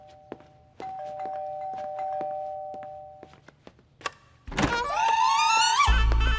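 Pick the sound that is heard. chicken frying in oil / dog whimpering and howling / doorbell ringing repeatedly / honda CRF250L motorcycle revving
doorbell ringing repeatedly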